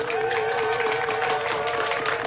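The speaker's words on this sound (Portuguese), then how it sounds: "Palmas para o Di." Audience applause for Di Ferrero: dense, steady clapping that fills the whole stretch, with a sustained tone running underneath.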